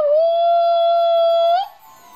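A human voice imitates a howl, holding one long, loud, steady wavering tone for about a second and a half before breaking off abruptly into quiet.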